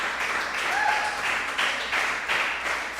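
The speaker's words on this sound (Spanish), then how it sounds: "Den un aplauso a él, estamos contentos." Congregation applauding in a church service, a brief steady burst of many hands clapping with a faint whistle or cheer mixed in.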